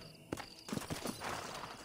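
Horse hooves clip-clop in Red Dead Redemption, a few faint, uneven thuds at close range with no talk over them.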